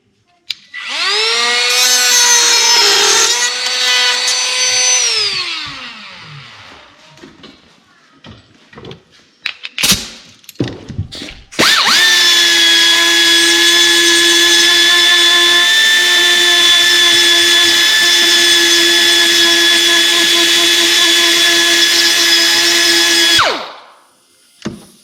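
Power tool trimming a part for a BMW E31 fuel pump: a loud whining run of a few seconds, a pause with scraping, then a long steady high-pitched grind of about twelve seconds that stops abruptly.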